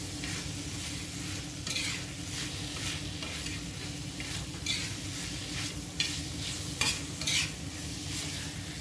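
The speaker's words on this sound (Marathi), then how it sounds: "यावर थोडीशी कोथिंबीर घालायची आहे, आणि एकदा हलवून घ्यायचे परत" Tomato chutney with coriander stirred in a pan, a steady low sizzle with repeated soft scraping strokes and occasional sharper clinks, close and moderately quiet.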